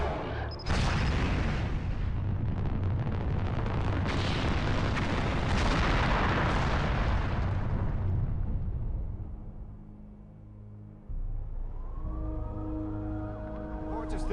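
A massive nuclear explosion in Baltimore during the Super Bowl in The Sum of All Fears video game. A loud, sustained roaring blast rumbles for about ten seconds, then fades, and thin wailing tones rise afterward.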